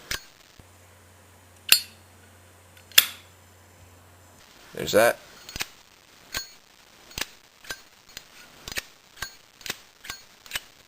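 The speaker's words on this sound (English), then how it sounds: "All of these lighters sound completely different from one another, okay?" Zippo lighters, including a 1937 replica, have their metal lids flicked open one after another, giving sharp, bright clinks and pings, first spaced out, then in a quick steady run, with a brief spoken remark in between.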